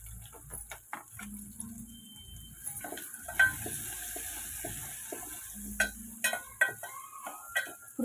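Curry leaves, onion and green chilies fry in a pan with a soft, steady sizzle, punctuated by light ticking clicks and occasional stirring scrapes, fairly quiet and close.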